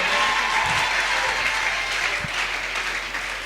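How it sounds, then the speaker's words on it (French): A church congregation applauds loudly and steadily, a dense wash of clapping from a large crowd filling the room throughout. "Acclame encore très fort pour le roi des rois."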